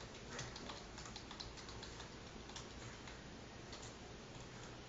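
Steady, quiet clicking of keys on a computer keyboard, continuous light tapping with no voices over it.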